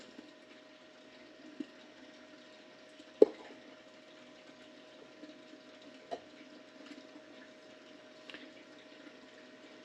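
Miller table for gold recovery running water at its lowest setting: a faint, steady low flow with a constant hum and occasional small clicks.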